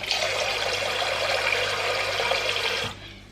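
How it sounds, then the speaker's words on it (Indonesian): Steady rushing, splashing water as rice and water are leveled by hand in a cooking pot, continuous for about three seconds before stopping abruptly. "Ini airnya, berasnya kita ratain dulu"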